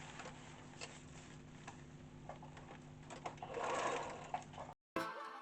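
A sewing machine stitches piping around the neck of an upcycled hairdressing cape made from clothes bags, running as a steady mechanical whir with a brief louder burst near the end, followed by a short gap.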